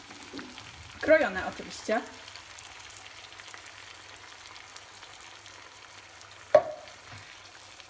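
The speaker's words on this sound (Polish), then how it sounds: "Wlewam pomidory w puszce." Canned diced tomatoes poured into a frying pan with wilted spinach, a few soft splashing hits and a faint low sizzle, with brief talk from a cook.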